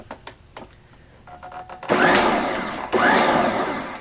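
A countertop blender churns cream cheese and lemon juice for a New York-style cheesecake, starting after quiet handling noises with two loud, close bursts of whirring motor, each a second or so long.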